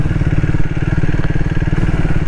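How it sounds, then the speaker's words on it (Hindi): A Triumph Speed 400 motorcycle rides off-road over soft dirt, its engine a loud, close, steady low-pitched chug with rhythmic pulsing, plus faint clatter from the bike. "आराम से बाइक चल रही है, कोई नॉकिंग नहीं हो रही बाइक में"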